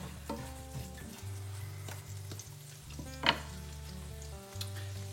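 French shallot sizzles in butter in a pan, a steady close frying hiss with intermittent stirring clicks and scrapes and no talking.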